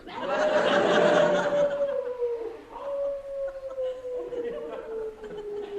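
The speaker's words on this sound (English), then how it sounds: "Might have been a mad dog roaming loose over the countryside." A long mournful howl, meant as a mad dog loose in the countryside in a comedy radio play, rises loudly and then trails off in a second fainter wavering howl.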